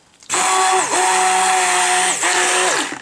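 A handheld stick blender whirs loudly as it mixes a muscle balm salve base, starting abruptly and running in bursts, its pitch dipping twice as the motor loads and recovers.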